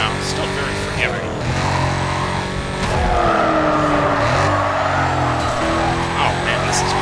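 Game car in Need for Speed Carbon oversteering and skidding, a steady engine roar with tire squeal swelling as it slides, loud and continuous with someone talking over it.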